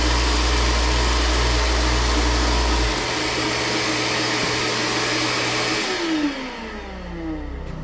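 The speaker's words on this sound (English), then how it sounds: "I have a vacuum cleaner hooked up to this sander" A loud power sander with a vacuum cleaner hooked up roars steadily while working on a long hunter's knife, then the motor cuts off and winds down, leaving a quieter whir.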